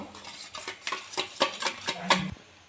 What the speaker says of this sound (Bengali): একটা ডিম ফাটিয়ে নিয়েছি আর একটু হলুদ আর একটু লবণ দিয়ে দিয়েছি এটা ফাটিয়ে নেবো